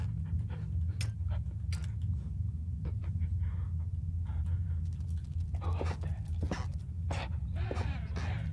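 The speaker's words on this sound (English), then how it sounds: "That clearly sounds like a dog." A dog panting in the Penumbra Overture horror game, rapid rhythmic breaths with a few sharp clicks and scrapes over a low droning hum, fairly close and steady.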